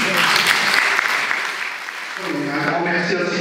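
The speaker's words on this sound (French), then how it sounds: "Je voudrais qu'on applaudisse Monsieur Nigel Télé" Audience applause at an awards ceremony in Picardy, a dense steady wash of clapping for the whole stretch that thins slightly near the end as a voice starts to come through.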